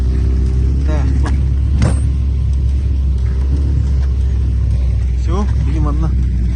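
Steady low rumble of a vehicle driving while passengers ride in a trailer on a trip to Oymyakon, a constant engine drone throughout with occasional voices talking over it.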